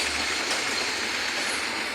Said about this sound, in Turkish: Bak bak bak tren geliyor bak.